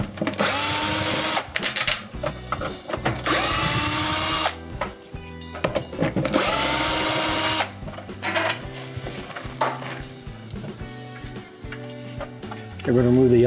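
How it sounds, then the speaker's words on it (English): A power drill running in loud whirring bursts as it backs screws out of a Whirlpool dishwasher's control panel, with clicks and handling noise between the runs and someone talking at times. "We're going to remove the other screw right here."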